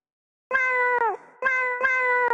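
A cat gives three clear, close meows in quick succession, the first rising and falling longer, the next two shorter, with brief silent gaps between them.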